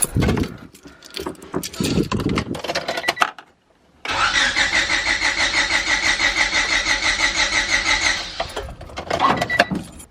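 A 1995 Honda Civic hatchback engine cranks over on its first start attempt after a distributor install, a steady rhythmic starter whir lasting about four seconds, close and loud, with handling noises around it.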